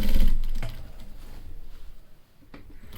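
Sewing machine running a double line of stitching, heard close with short mechanical rattling bursts and clicks, starting louder then settling into quieter intermittent whirring.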